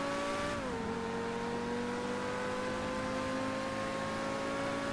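A GTA 5 racing car engine hums steadily with a sustained tonal whine that dips slightly in pitch early on, then holds constant.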